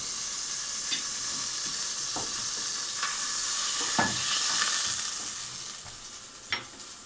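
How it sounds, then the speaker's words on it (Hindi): Two tablespoons of ghee sizzle and hiss steadily in a pan, with a few brief stirring clicks and scrapes breaking through the continuous frying noise. "ये हमारे पास पैन है, इसके अंदर हमने 2 टेबल स्पून घी डाल दिया।"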